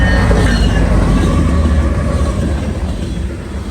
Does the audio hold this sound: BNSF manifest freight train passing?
yes